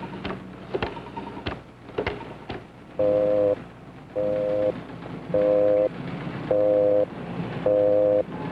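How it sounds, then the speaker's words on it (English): A telephone busy signal sounds in a steady series of loud, evenly spaced tones, five beeps with short gaps, after a few faint clicks and low room noise. "That's why his phone was always busy."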